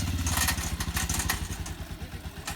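Motorcycle engine revving and pulsing close by during wheelie stunt practice at a bike stunt academy in Delhi, steady throaty rumble with uneven throttle bursts and a few clattering knocks throughout.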